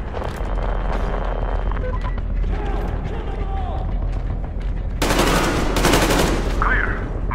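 Gunfire from the Metro Exodus video game: bursts of automatic rifle shots over a dense battle din of explosions and rumble, loud and close, with a heavy sustained volley near the end and voices shouting amid the fighting.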